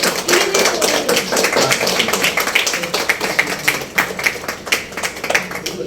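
A crowd applauds at the grand opening of a jewellery store in Chennai, with steady, dense clapping that is loud and close, while a voice on a microphone sits faintly beneath it.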